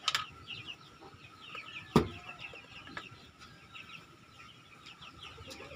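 Native chicken chicks and fowl cluck in a backyard, faint scattered peeps and clucks with one sharper knock-like sound near the middle, quiet throughout, no talk.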